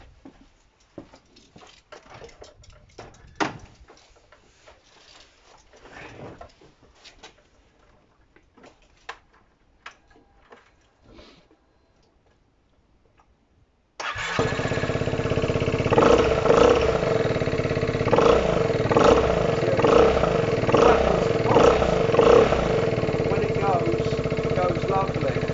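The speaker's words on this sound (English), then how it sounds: "I'm just going to start the bike up so you can have a listen." A Scomadi scooter with a Stage 4 tune, preceded by light ticking and handling noises, then fires up and settles into a loud, steady, close idle with rhythmic pulsing for the rest of the clip.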